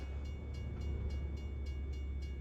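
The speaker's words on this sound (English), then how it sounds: "And this train is just constant." A train rolls through a town in American Truck Simulator, a steady low rumble of railcars with soft rhythmic clicks, continuous and without a break, no voices over it.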